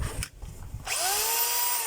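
DeWalt D25032 rotary hammer test-run after repair, a short burst of motor whine that rises and then holds steady and loud, alone and close up with no talk.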